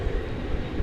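A jet airliner roars during takeoff at DFW Airport, a steady, loud, low rumble filling the short moment with no break.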